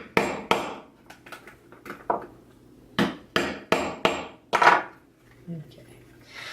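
A non-metal mallet hammers rivets into leather, about ten sharp knocks in an uneven rhythm, close by, with brief faint rustling between blows.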